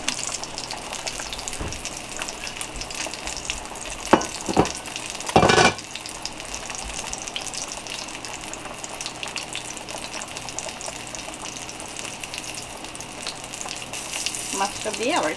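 Hilsa fish curry bubbles at a boil in a pot, a steady close sizzle and simmer with a few sharp splashes and thumps midway as the fish goes in.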